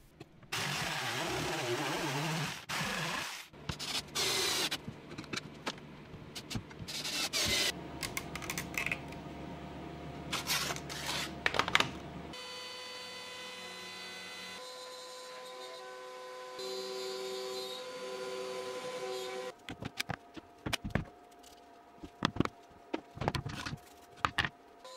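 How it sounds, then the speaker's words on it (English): A jigsaw saws a sheet of 10 mm plywood in half, with rapid buzzing cutting runs broken by pauses, clanks and handling noises, heard close up in a workshop without talk. "I will use a jigsaw."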